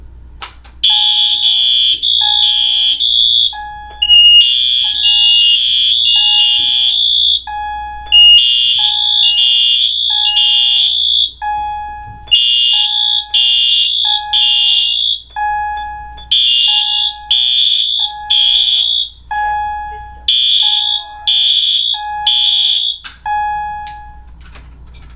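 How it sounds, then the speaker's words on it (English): Several electronic fire and smoke alarms shriek together at midnight on New Year's, a loud, continuous chorus of pulsing, overlapping high beeps in repeated bursts, close to the listener, with no talking. "set off a bunch of alarms"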